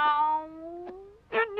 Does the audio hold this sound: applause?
no